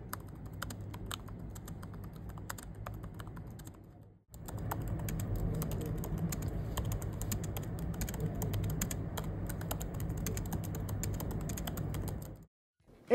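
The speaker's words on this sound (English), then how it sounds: "here's how it sounds when compared to a MacBook Air keyboard" Typing on two laptop keyboards, a Samsung Galaxy Book 5 Pro and an Apple MacBook Air: a dense run of soft, quick key clicks, a short pause near four seconds, then a longer steady patter of close keystrokes ending abruptly.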